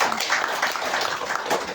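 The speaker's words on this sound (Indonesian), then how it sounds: "Beri tepuk tangan buat Tuhan Yesus." Church congregation clapping during a service, a brief stretch of dense, sustained applause from many hands at an even level.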